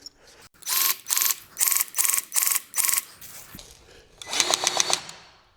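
Grease gun lever pumped on a spindle zerk of a Kubota ZD1211 zero-turn mower wheel: five evenly spaced clicking, squishing strokes close up, a pause, then a longer burst of rapid ratcheting clicks.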